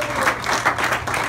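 A church audience gives the Lord a strong round of applause, a dense, rhythmic swell of many hands clapping in pulsing waves, with no voices on top.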